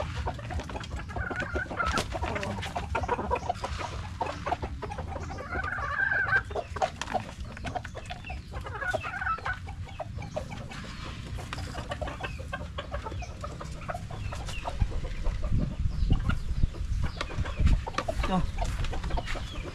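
Chickens cluck and call steadily, fairly close and continuous, among penned backyard fowl at feeding time, with the odd rooster note mixed into the flock's chatter.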